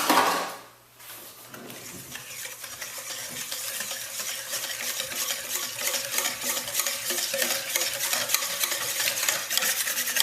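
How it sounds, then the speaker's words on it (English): A spoon stirs two cups of ketchup into a braising sauce for smoked pineapple baby back ribs, with a rattle at the start and then quick, steady scraping strokes. "And let me mix this up real quick."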